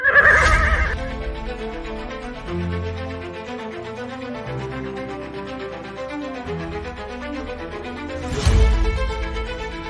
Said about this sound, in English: astride a horse taken from King Alara himself